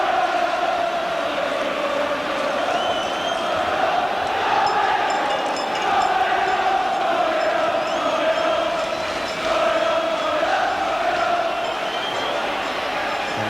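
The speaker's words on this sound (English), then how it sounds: "The cry from the crowd is now we're going up." Football crowd in a Division Two match between Manchester City and Swansea City chanting together in a steady, sustained drone that fills the stadium, heard at a distance without a break throughout.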